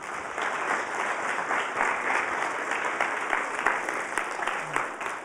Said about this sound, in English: Now I want a big round of applause for Rithik